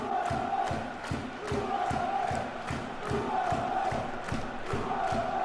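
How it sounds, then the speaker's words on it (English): Stadium crowd in PES 2014 chanting in a steady repeating rhythm, a loud continuous roar with regular pulses of voices filling the whole stretch, no commentary over it. "Crowd are lifting as the Blue and White Army chants ringing out around Spartan Park"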